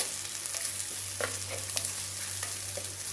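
Onion, fennel seeds, curry leaves and green chili sauté in a pan for a Tamil chicken pepper soup, giving a steady close sizzle with a few light stirring scrapes.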